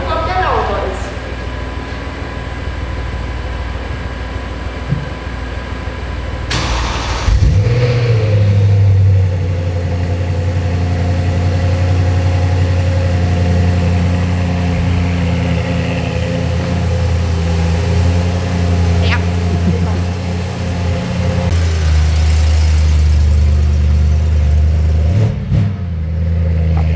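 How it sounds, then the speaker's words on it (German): BMW E92 M3 engine heard through its exhaust: a steady low idle, then a throttle blip and a rise into sustained revving that settles back, with a second rev late on, loud and close throughout. "Wollen wir uns den E92 M3 nochmal anhören?"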